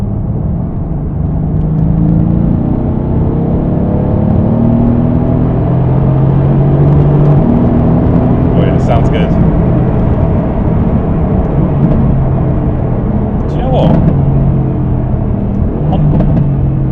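A Mercedes-AMG GT accelerates hard from inside the cabin, a loud, steady engine drone with rising harmonic sweeps that climbs through gears over about seventeen seconds, with brief speech near the start.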